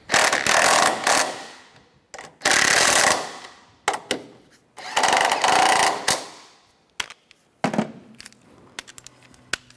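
A power tool tightens front strut bolts on a 2007-2013 Mini Cooper, loud close bursts of rattling whir in several separate runs with short pauses and clinks between them.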